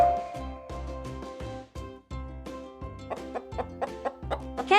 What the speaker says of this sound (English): You are correct. It's the hen.